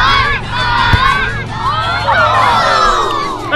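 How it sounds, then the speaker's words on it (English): A crowd of kids screams and cheers at a football crossbar challenge, dense overlapping high shrieks and whoops, loud and close, rising and falling in waves with a sharp thump partway through. "guys, scream for Kai"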